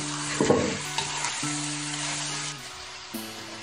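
Meat stir-frying in a wok for a tofu dish, a steady close sizzle with occasional scraping stirs throughout, no talking.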